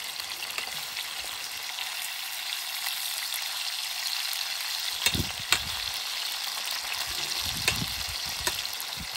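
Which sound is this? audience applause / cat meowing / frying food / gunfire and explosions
frying food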